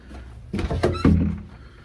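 A house's front door opening, a couple of loud wooden thunks and a latch knock close by, followed by a fading rattle in a quiet room.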